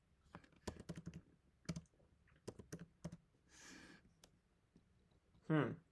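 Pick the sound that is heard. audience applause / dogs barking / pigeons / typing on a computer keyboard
typing on a computer keyboard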